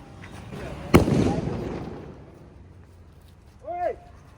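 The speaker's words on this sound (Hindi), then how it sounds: "मुझे बम ही नहीं फोड़ने दे रहे, खुद ही फोड़े जा रहे हैं भाई" A Diwali firecracker bursts once with a loud, sharp outdoor bang, followed by a fading crackle, with excited voices nearby.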